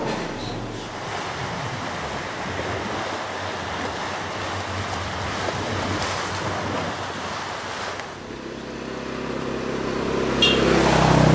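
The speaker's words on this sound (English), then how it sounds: "We're at the Salabdaong beach." Surf waves wash steadily onto Salabdaong beach, a continuous broad roar with wind buffeting the microphone, swelling slightly louder toward the end.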